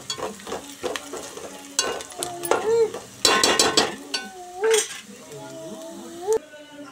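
Raw chicken being mixed with turmeric for a chicken fry, with wet squelching and clinks against a bowl coming in irregular bursts, along with some scraping and a few faint tonal chirps.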